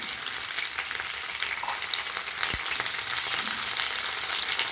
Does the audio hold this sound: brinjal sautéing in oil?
yes